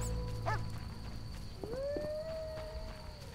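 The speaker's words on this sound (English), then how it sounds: "I'm not gonna go near those dogs." Dogs in The Witcher video game, a short burst of barking and a howling cry rising over a steady low game ambience, moderately distant with no talk over it.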